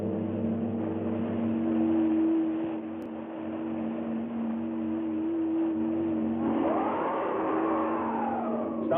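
A car drives along steadily in an old science-fiction film set on a prehistoric planet, its engine humming in a continuous drone that rises in pitch near the end as it speeds up.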